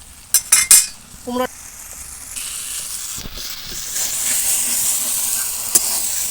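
Pumpkin stem chorchori cooked in fish oil stirred in a pan until the juices dry, opening with a few sharp utensil clinks, then a rising steady hiss and sizzle close up.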